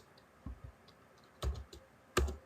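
Quiet typing on a computer keyboard while a basic shell script is entered, with three soft, separate key clusters spaced about a second apart over a low background hiss.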